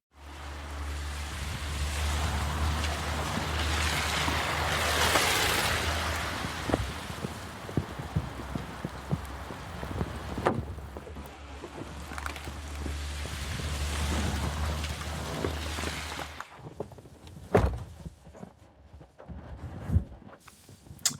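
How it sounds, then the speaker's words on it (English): Steady rain drumming on a car in a December evening, heard from inside the vehicle as a broad wash with a low rumble beneath, ending in scattered drips and taps. "I'm in my car on a rainy December evening"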